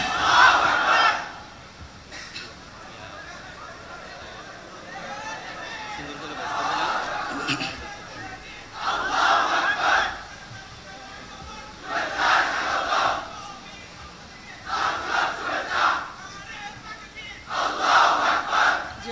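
A large crowd at a Chittagong University gathering shouts Allahu Akbar in unison. The loud chant comes in about six repeated bursts, spaced a few seconds apart, with quieter murmur between them.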